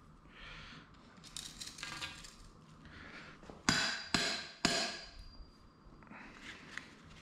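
A retro Odyssey putter head is tapped to settle sand and lead inside it: three sharp, close metallic knocks in quick succession, set among softer handling rustles and clicks.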